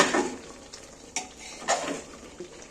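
Chicken with onion, tomato and masala being stirred in a pan to dry off its released water, with a few sharp spoon scrapes against the metal over a soft, low sizzle.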